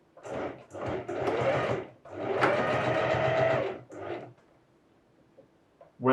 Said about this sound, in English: Since I'm here on the machine, I'm just going to go ahead and put a securing stitch on